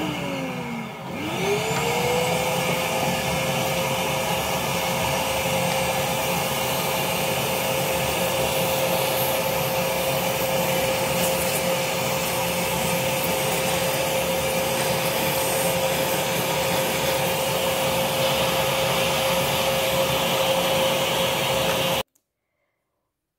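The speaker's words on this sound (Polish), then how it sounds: "nastawiam odkurzacz i do dzieła" Vacuum cleaner running continuously while cleaning a Brother knitting machine, close and loud with a steady whine that rises as the motor spins up, then cuts off abruptly at the end; no talk.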